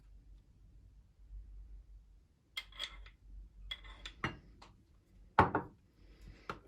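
A spoon stirring tahini into a Şahine dessert mixture in a bowl, with a few sparse, soft clinks and scrapes of utensil against the dish over a quiet background.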